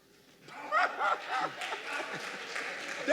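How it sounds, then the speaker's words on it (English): A lone audience member claps sparsely and softly at a debate forum, the few scattered claps rising over a murmuring crowd with nearby voices and light laughter. "Someone's actually clapping."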